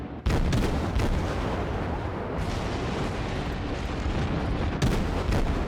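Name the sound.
destroyer gunfire in World of Warships video game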